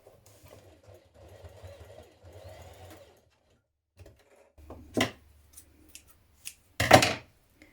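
A sewing machine basts along the edges of a backpack strap: soft, fast stitching bursts in a quiet room, then a couple of sharper clunks near the end as the fabric is handled.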